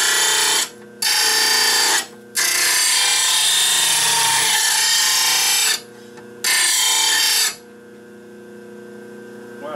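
A new grinder puts a bevel on a blade in loud, sustained bursts of broadband grinding. Long stretches of contact are split by short pauses, and the tool dies down toward the end with no talk over it.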